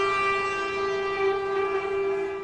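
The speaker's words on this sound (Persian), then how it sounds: "راننده اتوبوس‌ها که جلوی کنگره بوق خشم میزنند" A sustained, loud, steady horn blast holds one pitch throughout, consistent with bus horns honking in protest in front of Congress, with no talking.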